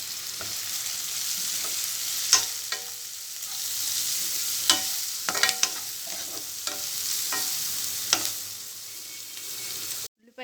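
Chopped onions with turmeric fry in oil, a steady close sizzle broken by repeated scrapes and clacks of a spoon stirring the pan, with no one speaking.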